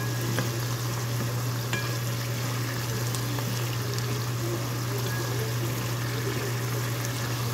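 Pork frying with fish sauce in a pan for a squash and string bean dish, a continuous even sizzle with a low steady hum beneath it and no voices.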